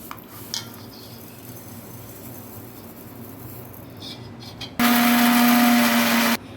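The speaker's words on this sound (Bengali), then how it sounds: "এবার আমি কাজুগুলো মিক্সিতে গুঁড়ো করে নেব" An electric mixer grinder powders cashews with sugar for homemade ice cream. After a quiet lead-in with small handling clicks, it roars loudly in one steady, high whine burst of about one and a half seconds, then stops abruptly.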